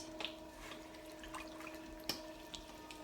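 Water dripping onto clay on a pottery wheel: faint, irregular drips and small splashes, a handful of soft taps scattered over a quiet background hum.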